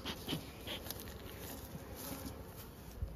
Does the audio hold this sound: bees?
yes